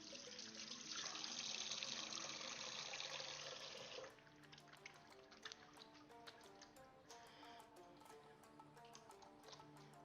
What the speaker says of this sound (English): Just wash my hands quickly.